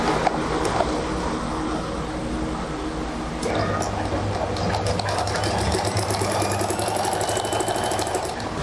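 A sewing machine stitches a folded trouser hem, whirring rapidly and continuously up close with only slight shifts in pace.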